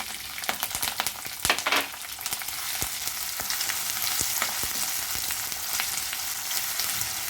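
Mustard seeds, dry red chillies, curry leaves and onion fry in hot tempering oil for bisi bele bath, with a steady loud crackle and sizzle broken by sharp popping spits, no talking.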